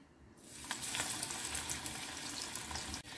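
Spoonfuls of grated bottle gourd pakora batter slip into hot oil in a kadhai, setting off a steady, close, bright crackling sizzle with small pops throughout and a brief dip near the end.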